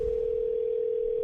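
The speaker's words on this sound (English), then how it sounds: "Let's give Amy a call." Steady, unbroken telephone dial tone heard while placing a call, a loud continuous single pitch held for the whole moment with a faint low hum beneath.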